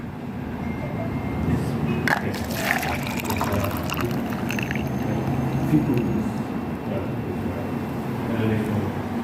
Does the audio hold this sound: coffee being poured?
yes